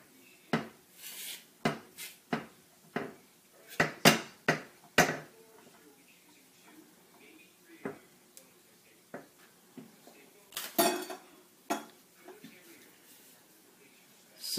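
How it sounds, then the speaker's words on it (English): Yeast being stirred into flour in a mixing bowl while making butter flake rolls: a series of sharp, close clinks and scrapes of a utensil against the bowl, irregular and fairly loud, with quiet gaps between bursts. "I'm going to stir this yeast in with the flour"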